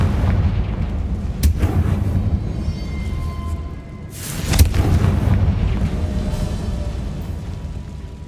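A Confringo blasting spell in the Hogwarts Legacy video game bursts with two sharp booming explosions, one near the start and a larger one midway, over a constant rumbling game background.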